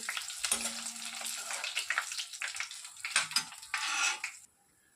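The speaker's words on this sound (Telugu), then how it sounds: "ఒక ఐదారు ఎండుమిర్చిని యాడ్ చేసేసుకుంటున్నాను ఇవి కాస్త దూరగా వేగాలండి" Dry red chillies frying in hot oil with cumin in a pan, a bright crackling sizzle with stirring and utensil scrapes, loud and close, then cutting off abruptly near the end.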